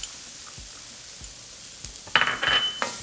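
Chopped onion dropped into hot oil in a skillet over medium-high heat, a brief clatter then a bright sizzle that swells and holds close by, with a few utensil clinks.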